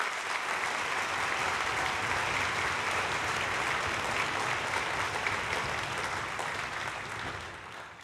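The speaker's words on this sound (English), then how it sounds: "Can we give them a round of applause?" Sustained applause from an audience at a junior high band camp performance, dense steady clapping throughout that thins slightly at the very end.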